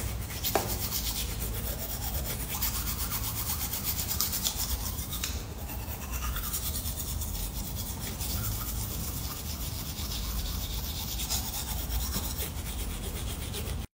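Teeth brushed with a bamboo toothbrush and charcoal powder, a close, steady scrubbing rasp with quick back-and-forth strokes continuing for the whole stretch, no voices.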